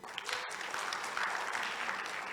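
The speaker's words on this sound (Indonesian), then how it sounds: "Tepuk tangan untuk beliau." Fairly quiet, even applause from seated attendees at an Indonesian tourism forum, a soft continuous patter of hands with a brief dip near the start.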